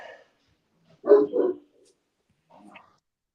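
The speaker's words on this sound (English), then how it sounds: "Sorry, my dog's barking." A dog outdoors barks twice in quick succession, loud and close, with a softer trailing yelp or growl a moment later; no talking.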